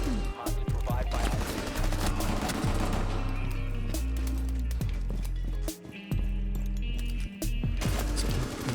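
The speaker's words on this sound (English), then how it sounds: "That's the rapid fire on the pistol" Rapid-fire pistol shots from a first-person shooter played with a Collective Minds Strike-Pack mod, crackling in dense, continuous bursts that fill the whole stretch, with brief gaps near the end.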